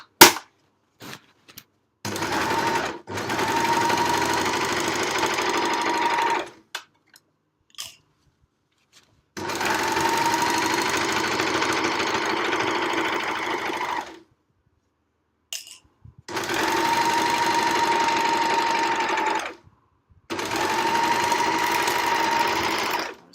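A sewing machine stitches across the bottom of a fabric library bag in four steady runs of rapid mechanical whirring, each several seconds long, separated by silent pauses and a few small clicks.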